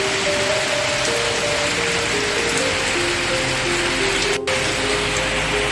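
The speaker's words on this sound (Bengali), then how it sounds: "কি জোরে বৃষ্টি হচ্ছে।" Heavy rain pours down in a village on the day of a chariot festival. It makes a steady, dense hiss that holds at the same level from start to finish, with a faint tonal hum beneath it.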